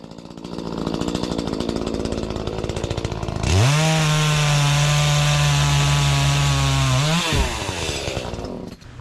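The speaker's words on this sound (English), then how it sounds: "chainsaws are fun, and once you get the thing fired up, you really don't want to put it away." A chainsaw revs up loudly and holds a steady high-pitched whine for several seconds, then drops back to a rough idle.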